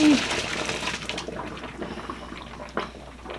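Water pouring and splashing as cooked bowtie pasta is drained, a short burst of gushing liquid that fades into softer trickles and splashes, close and fairly quiet.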